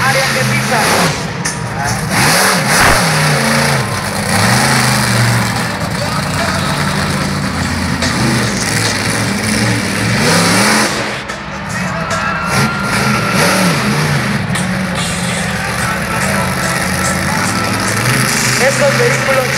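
Monster truck engines roar and rev at an arena show, a loud, sustained mechanical drone with surges and dips throughout, under a Spanish-speaking announcer and crowd noise.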